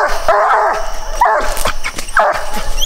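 A coon hunting puppy barks repeatedly at a treed raccoon in the woods, a close run of loud, urgent barks and yips with short gaps between bursts.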